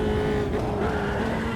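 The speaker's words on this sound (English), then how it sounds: "that's a massive lockup" Formula 3 car in a racing video game locking its wheels, a steady loud engine drone with a thin sustained tire squeal running across the whole short moment.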